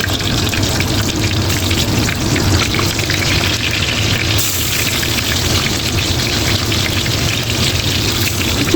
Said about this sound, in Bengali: এই গরম তেলের ভিতরে দোরমাগুলো দিই